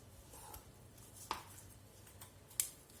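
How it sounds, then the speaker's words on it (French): A knife cutting through the joint of a chicken wing, two faint, sharp cracks about a second apart against a quiet, low room hum. "Ici on a une articulation, c'est celle de l'aile. Donc on trouve la jointure et on coupe dans la jointure."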